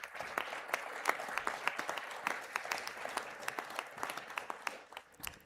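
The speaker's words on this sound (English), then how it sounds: "A round of applause for the graduates." Audience at a university spring conferring ceremony applauds the graduates, a hall full of distinct, fairly sparse claps ringing out steadily at moderate distance with no talking.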